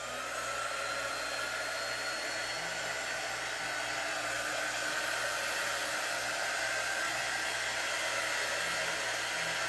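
Heat drying tool blowing continuously while drying paint on a wood pumpkin craft, a steady, even hair-dryer-like whoosh with a faint low hum, unbroken for nearly ten seconds at moderate volume.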